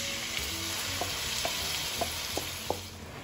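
Onion sautés in oil in a pan for vegan croquettes, giving a steady, even sizzle close by, with light utensil taps at regular intervals and no talking.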